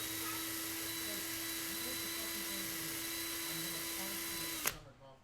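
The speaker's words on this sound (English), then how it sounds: "y'all don't want to hear that loud drill" A steady, high-pitched electric drill twisting wire whines continuously up close, then cuts off abruptly near the end.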